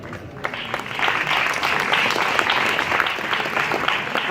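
An audience applauds after a startup pitch at a mobility conference in Munich, a dense, steady clatter of many hands that swells slightly and continues throughout.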